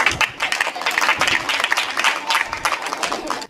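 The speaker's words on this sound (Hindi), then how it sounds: "जोरदार तालियों के साथ।" Steady audience applause at a Hindi comic poetry gathering in Mathura, with dense, continuous clapping from a crowd that cuts off abruptly at the end.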